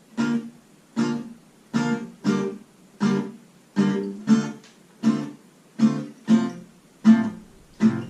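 Acoustic guitar strumming for a song lesson, three loud accented downstrokes separated by quieter muted strokes, repeating in a steady pulsing rhythm, close and clear with no voice.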